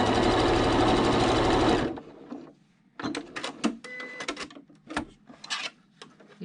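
A domestic sewing machine stitching the last of a seam on a fabric face mask, a loud rapid mechanical run lasting about two seconds, followed by scattered clicks, handling noises and short fabric rustles.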